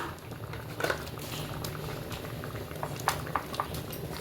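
Thick curry bubbling and gurgling in a clay pot, a soft continuous simmer with small pops, heard close up and fairly quiet.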